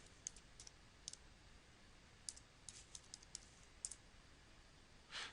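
Someone types a domain name on a computer keyboard: about a dozen light, sharp key clicks in an irregular rhythm, quiet and close, with a slightly longer burst of keys at the end.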